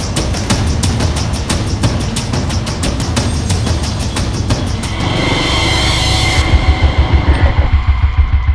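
A car drives forward, its engine a loud, close rumble with rhythmic ticking early on, then swelling into a broader roar and settling into a lower drone.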